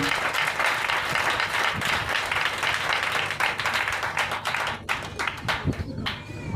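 A church congregation at a Friday sermon breaks into sustained, loud clapping that thins into scattered claps near the end, with voices mixed underneath.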